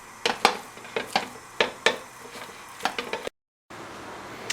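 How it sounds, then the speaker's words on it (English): A spatula breaking up lean ground beef in a pan, sharp irregular scrapes and taps against the metal close by, with a soft sizzle underneath and a brief dropout near the end. "I just like to break that up with a spatula so it cooks evenly"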